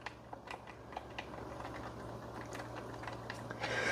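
Rapid plastic clicks from the D-pad of a Gamemt E5 Plus handheld console, close and fairly loud, pressed in quick irregular bursts over faint background hum.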